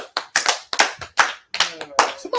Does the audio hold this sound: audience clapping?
yes